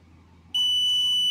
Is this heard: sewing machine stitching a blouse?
no